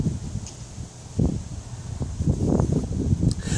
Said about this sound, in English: the wind kind of screwed me up here